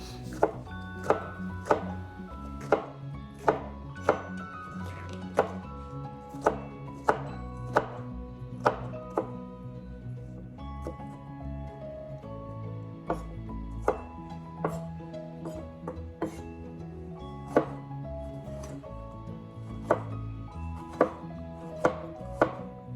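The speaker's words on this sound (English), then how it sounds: "Get you your green pepper, wash it, and also slice it in cubes" Knife chopping a washed green pepper into cubes on a board for a vegetable salad, a long run of sharp, evenly spaced taps close up, clear and alone with no talking.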